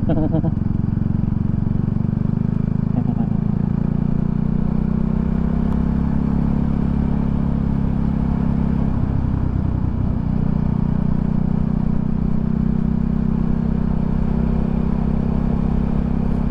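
Motorcycle with a worn, failing bearing riding steadily along a road toward a beach near Panama City, a loud continuous low engine drone with some clatter throughout.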